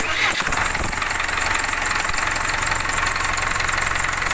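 An old ZIL truck engine cranks and catches, then settles into a rough, steady idle with a harsh mechanical clatter, loud and close.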